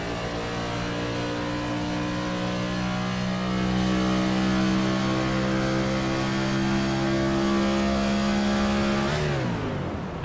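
Race car engine heard from on board at the North Carolina 125 in Charlotte, droning steadily and loudly with the clutch in as the car rolls, then the pitch dips sharply near the end.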